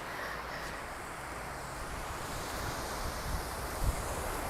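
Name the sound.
sea waves breaking on Narrowneck Beach, Auckland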